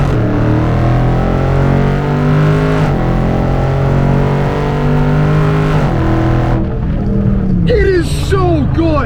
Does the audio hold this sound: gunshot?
no